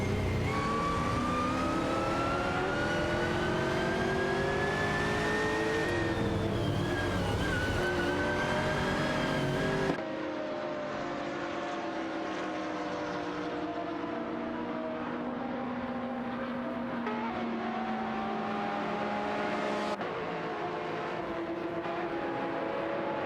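Ferrari F430 GTC and Dodge Viper GT2 race cars in a racing video game, engines droning and shifting pitch as they rev and pass, with abrupt cuts between different car sounds.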